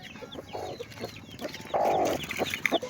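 A hen clucks near newly hatched chicks, giving short nearby clucks and one louder, drawn-out call over faint background rustle.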